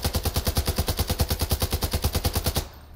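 Scar-H rifle fire in Call of Duty Warzone Plunder: a fast, loud automatic burst of evenly spaced shots lasting over two seconds, then cutting off into quiet.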